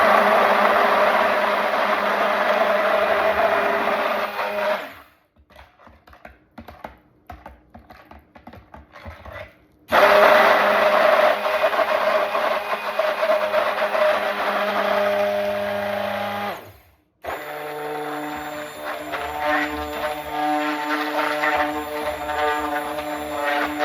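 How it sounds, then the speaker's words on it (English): A two-speed NutriBullet immersion blender whirs loudly while mixing soap batter, running in two long bursts with a pause between, then a lower, steadier motor tone at the end. "This immersion blender has 2 speeds. This is a Ninja"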